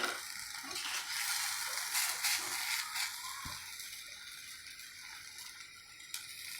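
Moong dal batter roti frying in a little oil, giving a steady, close sizzling hiss that runs throughout with faint stirring or scraping and no voices.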